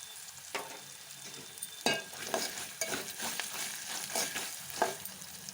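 Grated raw coconut fries with chillies for pulihora, a soft hissing sizzle under repeated scraping stirs of a spatula across the pan, fairly quiet and with no talking.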